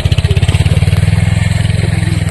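A motorcycle engine chugs close by on a muddy, waterlogged road, its loud rapid regular thumping pulses steady throughout the short stretch.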